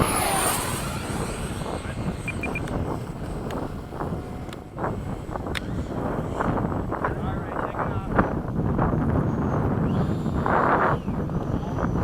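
An FMS 70mm F/A-18 model jet makes a fast pass in windy conditions, its steady jet roar sweeping by under heavy wind buffeting on the microphone.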